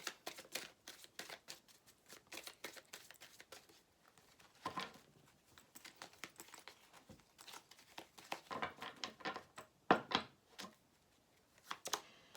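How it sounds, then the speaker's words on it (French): Tarot cards shuffled and drawn up close, a dense run of crisp riffling and flicking bursts broken by brief pauses and sharper snaps as cards are pulled and laid down, with no voice over it. "On va prendre d'autres cartes maintenant."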